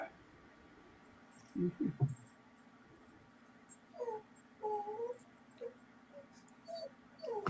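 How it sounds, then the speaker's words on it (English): A puppy whimpers softly indoors in several brief, high, whiny bursts, one short cluster early and a few more thin cries later, quiet against a low background hum. "Speaking of puppies, who's making the noise? Can you hear that?"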